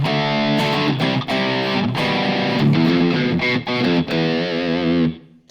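An Enya Nova Go Sonic guitar plays a run of strummed and picked chords with a reverb effect, each note ringing out with a washy tail before the sound fades to silence.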